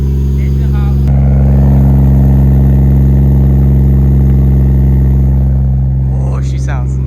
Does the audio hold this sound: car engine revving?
yes